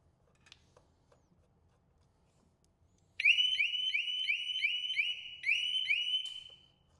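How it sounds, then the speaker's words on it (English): A Harley-Davidson motorcycle alarm chirps in a fast repeating electronic warble while the battery is being disconnected, loud and close, running for several seconds in two bursts after quiet shop ambience with faint handling noises. "If you have an alarm on your bike, it may chirp some."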